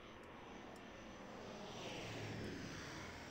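A small plane in The Terminal 2 takes off with a steady, faint broadband engine roar that swells slightly toward the end, heard alone without talk.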